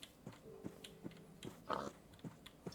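A pig in a video game grunting and oinking in short, repeated snorts spaced roughly every half second, fairly close and moderately loud, with no talk over it.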